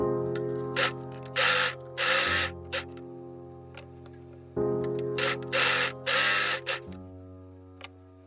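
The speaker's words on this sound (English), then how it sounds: "Overlock the top edge of the longer frill." An overlocker sewing machine stitching dress frill seams runs in several short, whirring motor bursts separated by brief pauses, heard alone and close.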